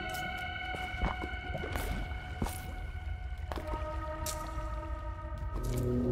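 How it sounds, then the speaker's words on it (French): Water bubbles and splashes in Minecraft's From the Caves, with soft squishy bursts recurring every second or so beneath sustained droning game tones. "Il y a un truc qui patoche dans l'eau"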